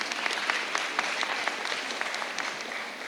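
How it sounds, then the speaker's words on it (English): An audience at a school assembly claps for Oklahoma's governor, Kevin Stitt, in a brief, steady burst of dense applause heard at moderate loudness, with no speech over it. "You feel like you need to applaud for the governor."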